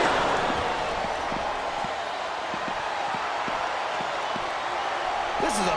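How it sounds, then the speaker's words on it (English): Crowd roar from an arena in the WWE SmackDown vs. Raw 2007 wrestling game on PS2 during a Buried Alive match, a constant loud wash of cheering with light repeated thuds. "I think these superstars are getting some feedback from the crowd, JR."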